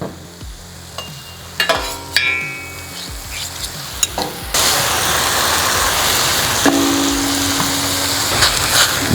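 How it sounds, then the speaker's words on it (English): Buns toast in butter on a VEVOR 21-inch commercial electric griddle, first with scattered taps and scraping, then a loud steady sizzle that swells and holds for several seconds. "I wanted to toast some buns, get some butter oiled in."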